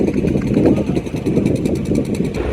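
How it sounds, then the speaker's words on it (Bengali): A passenger launch engine runs at the Barishal launch ghat in rain, a loud, steady low rumble that holds throughout the short stretch. "দর্শক ধীরে ধীরে গতি বাড়াচ্ছে এম খান 7"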